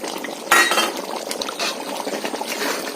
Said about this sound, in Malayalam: ഇനി നമുക്ക് കടുക് വറുത്തൂടെ ചേർത്ത് കൊടുക്കാം.